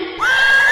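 A horse whinnies in a comedy skit, a loud, close, rising neigh that holds a steady high pitch for most of a second, with a faint crowd-like background.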